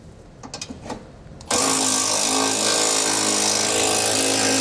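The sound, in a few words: power tool tightening side bolts with a 15mm socket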